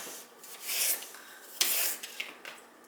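A knife slices raw chicken into strips for chicken salad, giving short rasping, rubbing strokes in close, irregular bursts with brief pauses between cuts and no voices.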